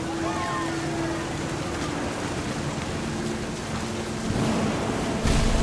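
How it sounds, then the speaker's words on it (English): Steady, dense rain hisses through a thunderstorm in What Remains of Edith Finch, with low rumbling thunder underneath that swells louder toward the end. "The thunder sounded much too close and full of angry power."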